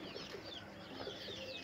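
Pigeons coo softly with low, rolling calls at a pigeon-flying tournament, a few birds close by over quiet background noise.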